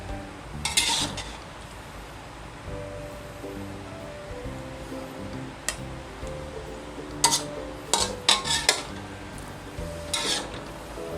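Stir-fried mixed mushrooms in oyster sauce get scooped from a pan onto a plate, with soft scraping and a few sharp utensil clinks against metal and ceramic over a low steady background hiss, no voices.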